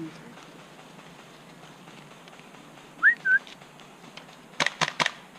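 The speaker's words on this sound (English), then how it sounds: "The whistle." A whistle blown during an airsoft game gives two quick, bright chirps, fairly clear over faint background noise, followed a moment later by a few sharp bursts.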